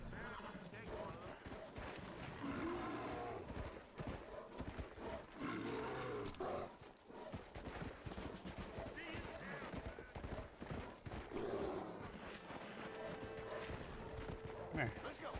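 Horse hooves clip-clop steadily in Red Dead Redemption on PS5, mixed with game music, an animal roar and whinny, while a player talks loudly over the action throughout.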